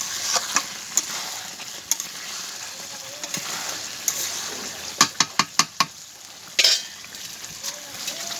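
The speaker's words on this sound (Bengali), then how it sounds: "এই যে দেখো আবার কাটা সরানো নাড়ছি, কষানো মাংস হচ্ছে।" Meat being stir-fried in a pan on a clay stove, a steady sizzle with a run of sharp utensil scrapes and clanks as it is stirred, close and fairly loud.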